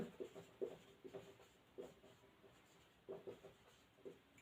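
Pen or chalk writing by hand during a maths lesson, a series of short scratchy strokes in uneven bursts, fairly close and quiet, with no talk over it.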